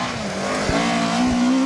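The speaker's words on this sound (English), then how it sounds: "it sounded like an RS 1800, yet it was a Toyota Starlet" A Toyota Starlet rally car on a stage at the Ecosse Challenge takes a corner, its engine holding a steady, rising tone close by, with tire scrub and a couple of low thumps from the car.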